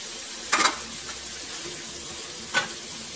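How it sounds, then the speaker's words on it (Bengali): Fried potato and eggplant pieces drop into hot spiced masala, giving a steady background sizzle with two short louder bursts of frying and stirring, no talking. "তো এখন আমার ভেজে রাখা আলু আর বেগুনটা দিয়ে দিচ্ছি।"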